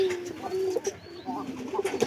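Pigeons in a household loft coo softly and intermittently nearby, with short, low, burbling calls rising and fading in a quiet space.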